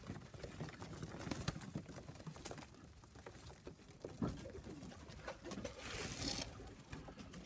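Young pigeons in a loft coo softly, half hidden under rustling, shuffling and patter from the birds moving about, all faint and fairly close.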